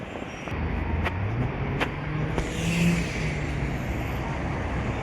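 Evening rush-hour car traffic streams along a road in Saudi Arabia. A steady roadway roar is marked by several cars whooshing past nearby and an engine humming low, with no talking.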